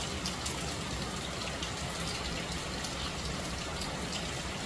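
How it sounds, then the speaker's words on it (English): Steady rain falls on an island of wood and water, a dense, even hiss of drops that stays constant and fairly soft throughout, with no voices. "the rain comes"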